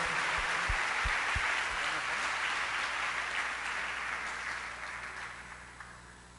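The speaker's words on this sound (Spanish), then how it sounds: "Den un aplauso al Señor." Steady applause from a church congregation, dense and sustained, gradually fading toward the end with a few low thumps early on.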